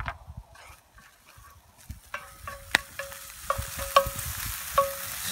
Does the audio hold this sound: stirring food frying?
yes